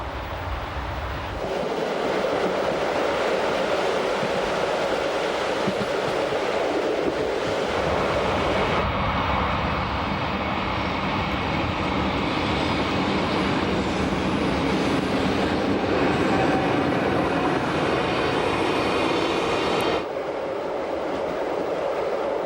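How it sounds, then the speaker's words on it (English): Glacier Express train on a Swiss railway crossing the 152-meter iron girder Hinterrhein viaduct, a loud, steady rumble and clatter of wheels on track lasting throughout, with the tone shifting partway as the carriages roll on. "The train passes for the second time over the 152-meter-long iron girder Hinterrhein viaduct"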